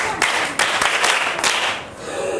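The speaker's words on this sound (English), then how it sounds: "Clap for her." Schoolchildren applauding in a classroom, several bursts of brisk, fairly close clapping with uneven rhythm that rise and fade over a couple of seconds.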